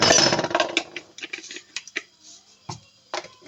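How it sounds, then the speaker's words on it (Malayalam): Mustard seeds popping in hot oil in a pan for curry tempering: a loud sizzle at first that quickly thins into scattered sharp crackles and pops, close by and irregular. "കടുകൊന്ന് പൊട്ടട്ടെ"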